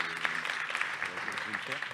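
Applause from a conference audience answering a show-of-hands question, faint and scattered clapping running under a voice speaking.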